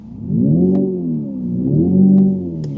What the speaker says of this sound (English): Virtual gear shift recreates the feeling of driving a vehicle equipped with a combustion engine and transmission